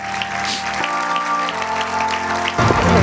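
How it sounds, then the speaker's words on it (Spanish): A church congregation applauds for the fathers, a steady wash of clapping from a crowd layered over sustained musical tones, moderately loud throughout. "un fuerte aplauso para todos los papás"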